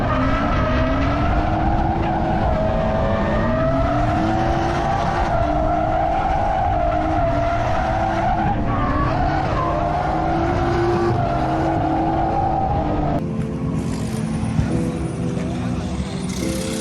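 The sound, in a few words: BMW M240i car drifting with tire squeal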